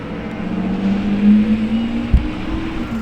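A noisy truck passes on a street lined with parked Lamborghinis, a steady low engine drone rising and falling over about three seconds, with a brief thump near the end.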